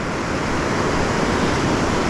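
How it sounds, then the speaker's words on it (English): Small ocean waves break on a shore and wash up nearby in a steady, loud rush of surf. Wind noise on the microphone blends in, and no one speaks. "the waves are pretty small"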